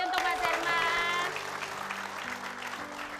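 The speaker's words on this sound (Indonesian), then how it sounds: "kita kasih tepuk tangan sekali lagi untuk Mas Herman" Audience clapping for a contestant on an Indonesian TV comedy show, brief and moderately loud, mixed with a voice and background music tones, fading after the first second.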